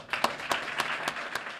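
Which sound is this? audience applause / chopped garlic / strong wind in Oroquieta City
audience applause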